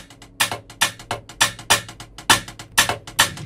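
A crisp shaker run in a music beat: rapid, evenly spaced rattling hits with a steady rhythm, fairly loud and close.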